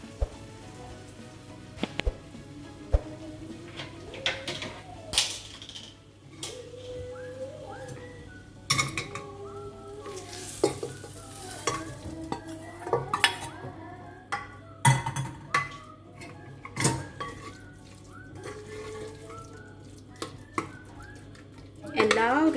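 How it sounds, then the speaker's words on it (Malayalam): Boiled potatoes are mashed against the pot with a utensil in a simmering potato masala curry, heard as scattered close clinks and soft squelchy stirring over a quiet background, with faint talk in places. "എല്ലാ ഉരുളക്കിഴങ്ങും ഉടച്ചു കൊടുക്കേണ്ട ആവശ്യമില്ല, ജസ്റ്റ് കുറച്ച് മാത്രം ഉടച്ചു കൊടുക്കുക"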